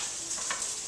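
Shallots browning in olive oil sizzle in a pan as they are stirred, a steady close frying hiss with a brief scrape of the spoon midway.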